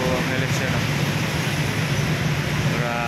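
Heavy, slow-moving traffic at a vehicle terminal on the route to Angeles on a rainy morning: a steady, dense roar of engines and road noise that continues without a break.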